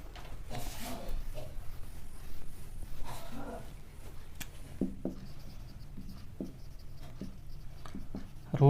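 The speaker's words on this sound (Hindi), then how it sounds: "चलो मैं इसको यहाँ पे लिख देता हूँ" Equation roots being written on a board produce soft, scratchy strokes and light taps, faint and irregular over a steady room hum.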